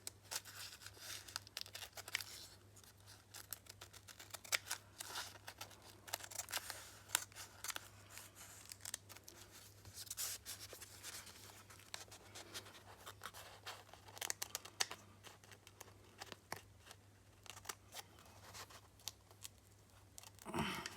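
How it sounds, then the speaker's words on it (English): Scissors trim excess decoupage napkin and paper from an art journal page, a long run of quiet, close snipping cuts in irregular bursts with no voices. "just going to turn this over and cut away the excess"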